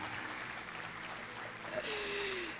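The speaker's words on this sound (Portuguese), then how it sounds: "Aplauda Jesus" A church congregation applauds during a sermon, a continuous broad rush of clapping at moderate level, with a brief high tonal sound briefly rising above it near the end.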